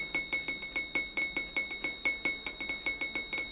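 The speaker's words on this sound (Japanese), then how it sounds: "森の中のガラスの家太陽の光を受けて音を奏でます" Glass house art installation in a forest at the Rokko Meets Art outdoor exhibition, sounding in sunlight: bright, bell-like glass chimes ring out one after another in a steady, overlapping series of clear tones with no voices.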